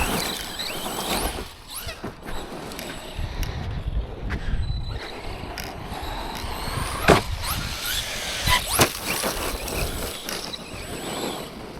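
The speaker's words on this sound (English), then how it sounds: "When I accelerate, the steering pulls to one wet side." An ARRMA RC car accelerates in short bursts of high electric motor whirring mixed with clicks and crunches from the chassis and ground, loud and close, with no voices.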